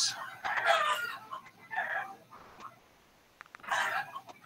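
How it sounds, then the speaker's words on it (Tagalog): Chickens clucking in bursts with a rooster crowing, fairly close and moderately loud, separated by quiet gaps with faint background noise. "ug nagsaba-saba na ang mga manok."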